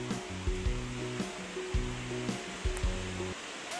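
Rushing water of a swollen river (Jalbire area, Sindhupalchok, Nepal) roars as a steady broadband wash, close and continuous, with no talk over it.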